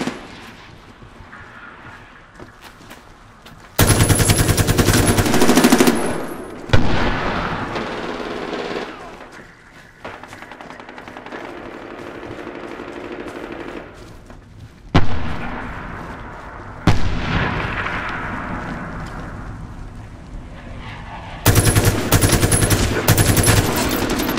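Loud bursts of machine-gun fire and booming artillery from the Heavy Gunner video game, coming in dense sustained volleys split by quieter rumbling stretches, with explosions rolling out between the bursts.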